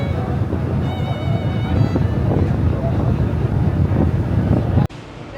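An old ferry ship underway between islands in the Philippines, heading from Binoni toward mainland Mindanao, gives a steady loud rumble of engine and water with wind buffeting the microphone, holding constant until an abrupt drop near the end.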